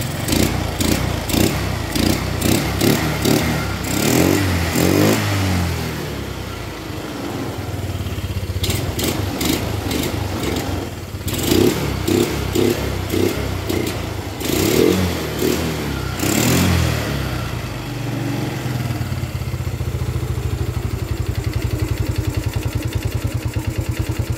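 A Yamaha Mio scooter engine runs just after a PE carburetor is fitted, before the air is adjusted, revving up and down repeatedly at close range, then settling into a steady idle.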